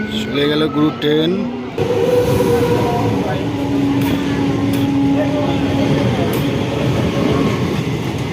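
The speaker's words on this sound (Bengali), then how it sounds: "চলে গেল গুরু ট্রেন।" A train rumbles past nearby on rural tracks in the morning, a steady loud roar with wheel clatter lasting several seconds, someone talking over the start.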